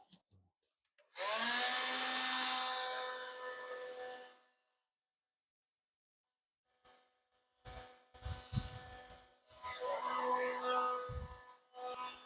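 A heat gun blows hard for a few seconds while shrinking heat shrink tubing on Kawasaki Versys 650 motorcycle wiring, with a whining tonal airflow; after a pause come clicks, handling noises and a second shorter blast.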